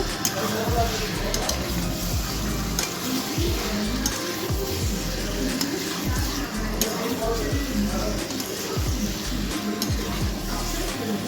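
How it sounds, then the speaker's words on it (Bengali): Chicken pieces are stirred and fried with spices in a pan for a curry, with continuous sizzling, scraping strokes of the spoon and a voice talking over the cooking. "মাংস দিয়ে আমি কিছুক্ষণ আবারও ভালো মতো করে নেড়ে চেড়ে নেব"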